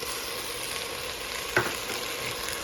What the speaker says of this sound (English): what I'm going to do now is add in the butter